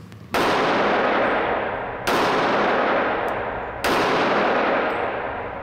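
Three loud, evenly spaced pistol gunshots at a shooting range where guns are tried before purchase, each a sharp crack followed by a long ringing decay, with no talking.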